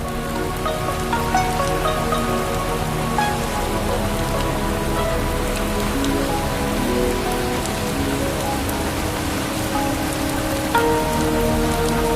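A heavy, steady tropical downpour in the Mekong Delta, Vietnam, drums continuously on surfaces, a constant dense hiss with a faint tonal hum underneath.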